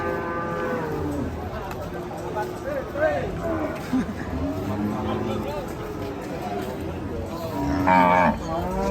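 Unruly cattle being loaded onto a truck moo repeatedly, some calls near and loud, with people talking and shouting in the background.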